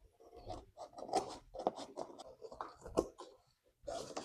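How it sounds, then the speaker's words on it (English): Scissors snipping through paper while a journal spread is assembled, a run of close, crisp cuts in uneven rhythm with short pauses between strokes. "let me grab a scissor and then I can cut it"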